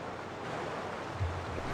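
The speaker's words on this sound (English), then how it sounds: "Oh, a waterfall." A waterfall in the video game Heaven's Vault gives a steady, broadband rushing roar, continuous and moderately loud, with a low rumble underneath.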